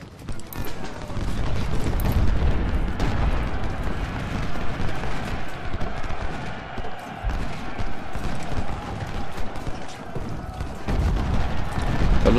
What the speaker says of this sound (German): das Kanonenfeuer, während man auf der Brücke steht, ist sehr, sehr unangenehm